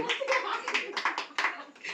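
Hands clap at a family birthday celebration, a run of irregular, close claps mixed with excited voices talking and urging one another on.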